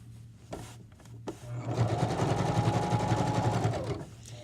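A sewing machine runs steadily for a couple of seconds, stitching a pillowcase seam, its fast even whir rising after a few soft handling clicks and taps, close and alone with no voices.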